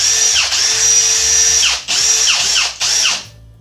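A Milwaukee M18 Gen2 cordless drill from a One-Key combo kit, set to speed 1, whirs in three loud bursts with a steady high motor whine, each spinning up and winding down with short pauses between.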